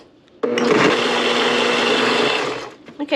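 A blender whirs loudly for about two seconds as it purees homemade pizza sauce, starting abruptly, holding a steady grinding whine, then winding down into a few small clunks.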